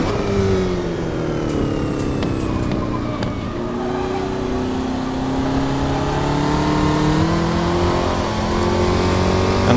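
A Formula Vee racing car's engine in a Reiza Studios sim at the Buenos Aires circuit, droning loudly and steadily under throttle with rising and falling pitch through gear and speed changes, close and continuous.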